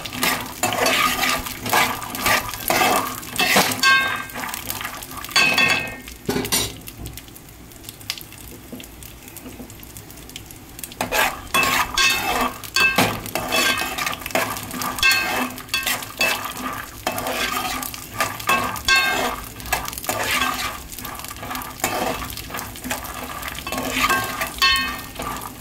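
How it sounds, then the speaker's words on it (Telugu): Peanuts roasting in a pan for chutney, stirred with a utensil in repeated scraping, rattling strokes over a soft sizzle, with a brief lull midway before the stirring resumes close up. "ఇలా అయితే వేయించుకోవాలి వేరుశనగ పల్లీలు"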